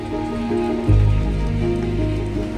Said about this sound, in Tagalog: Sa mga oras na ito, bumuhos na ang napakalakas na ulan habang kami nagpapahinga.